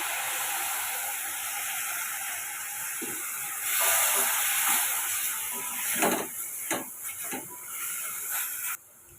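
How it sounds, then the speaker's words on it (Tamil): Steady loud sizzling hiss from a hot pan, with bursts of crackling and spitting as a little water hits the oil, continuing throughout before cutting off near the end. "கொஞ்சமாக நம்ம தண்ணி சேர்த்து வதக்கி எடுத்துக்கலாம்"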